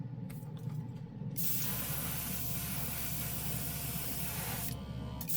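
A paint sprayer powered by a portable shoulder-strap compressor hisses in a steady, loud spray burst lasting several seconds, starting abruptly after a short mechanical lead-in and cutting off near the end.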